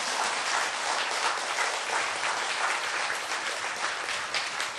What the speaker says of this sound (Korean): 이런 땐 박수 좀 치는 거예요.